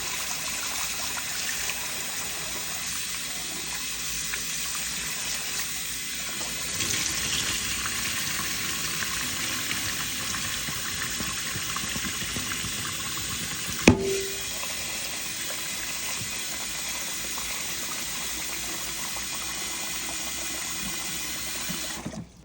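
Running tap water streams steadily over rice being rinsed for Jamaican stew peas, a loud continuous gush with a brief knock or clatter midway and the flow sound shifting slightly partway through.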